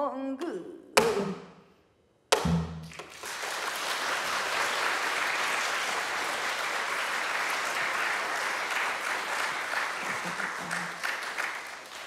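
Audience claps at a live Korean traditional music concert, first a few scattered claps and thuds, then a sustained, dense round of applause that fades toward the end.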